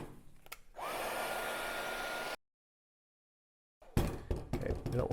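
A heat gun shrinks heat-shrink tubing on a transmission cooler hose for a Jaguar XJS V12. It makes a steady close blowing whoosh for about a second and a half, then silence, then some handling clatter.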